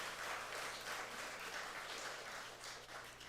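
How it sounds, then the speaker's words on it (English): An audience at an annual emancipation lecture applauds the performers, with dense, continuous clapping from a crowd that stays steady and fairly soft at a distance, and no voices over it. "Please give them another round of applause."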